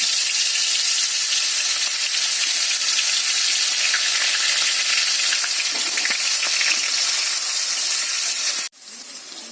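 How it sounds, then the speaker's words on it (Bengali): Loud, steady sizzling of raw rice frying in hot oil, a dense hiss with faint crackles, cutting down abruptly near the end to a softer sizzle. "চালটা আমি তেলের মধ্যে দিয়ে দেবো। চালটা হালকা করে ভেজে তুলে নেব।"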